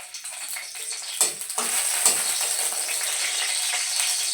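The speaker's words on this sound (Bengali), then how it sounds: "কাঁচা লঙ্কা ফোড়ন দিচ্ছি" Green chilies spit and sizzle as they hit hot oil, tempering for tomato dal, a sharp crackling burst that settles into a steady loud frying hiss, with no talk.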